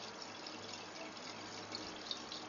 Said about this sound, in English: Water comes through the supply line into the fill valve to refill the tank, and refill the bowl through an overflow tube.